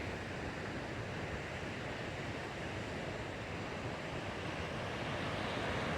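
Ocean waves washing onto a beach on a sunny day, a steady broad wash of surf heard from some distance with wind noise on the microphone, no voices.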